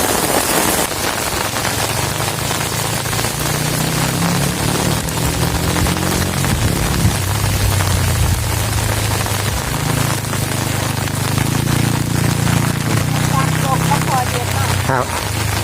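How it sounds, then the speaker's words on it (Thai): Heavy rain pours during a windy storm over a riverside fishing spot, a dense continuous hiss of drops hitting surfaces close by, with occasional voices underneath. "ฝนตกแรง"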